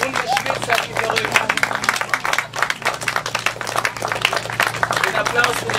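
An audience at a Berlin reading event against the blockade of Cuba applauds and cheers, a continuous crowd of clapping mixed with shouted voices.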